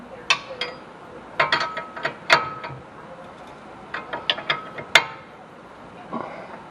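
A hand ratchet snugs up the hub nut on a Ford Taurus during a hub and CV shaft replacement, giving scattered short clicking bursts at close range with pauses between strokes and no talk.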